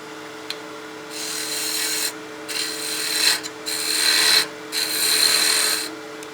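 Wooden spinning top stem being turned on a lathe with a skew chisel, several long bursts of hissing, scraping cuts separated by short pauses, close and fairly loud.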